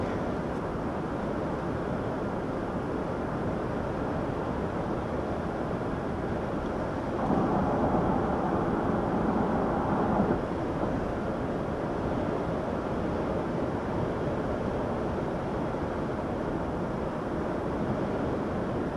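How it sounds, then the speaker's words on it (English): Steady broadband wind rush buffets the microphone outdoors around a parked 2022 Lexus LX 600 SUV, loud and continuous, with a brief stronger gust in the middle. "it is a bit windy today, quite a bit windy as a matter of fact"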